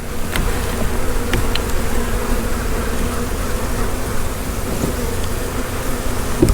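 Honey bees buzz around an open hive during an inspection on a warm day. The drone is dense, close and continuous, with no one speaking.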